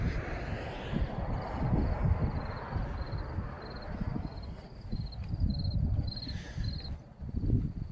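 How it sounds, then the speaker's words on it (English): Summer crickets chirp at night in the Clearfield Transit Center parking lot, a steady pulsing trill in repeated bursts over faint wind and distant low rumble. "Listen to all those crickets."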